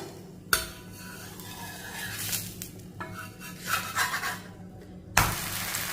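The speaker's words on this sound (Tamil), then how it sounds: "இதை நம்ம திருப்பி போட்டுக்குருவோம்." Cooking food in a pan is turned over with a utensil: close scraping and rubbing against the pan, with sharp clanks near the start and end and a faint sizzle beneath.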